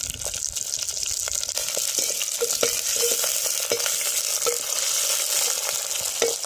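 Dried red chillies, green chillies and curry leaves frying in hot oil, with a steady bright sizzle and small crackles and pops throughout, close and continuous with no talk.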